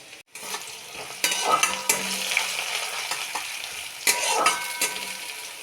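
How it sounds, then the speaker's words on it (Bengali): Coarsely blended garlic and ginger paste frying in a pan over low heat for a chicken and vegetable curry: a steady sizzle with intermittent scraping stirs, close and moderately loud, with no talking. "একটুখানি ভাজার জন্য ছেড়ে দিলাম, আঁচটা কমিয়েই রেখেছি"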